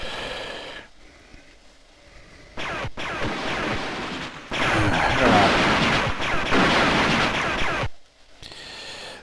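Laser-style shooting and blasting effects from the Commodore Amiga version of Return of the Jedi, bursts of busy crackling gunfire in two loud stretches separated by brief silences, with no talk over them.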